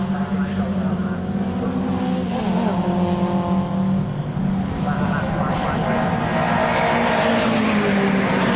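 MG race cars, MGFs and ZRs, lapping Snetterton circuit, a continuous loud engine roar with changing pitch as cars pass, under steady commentary.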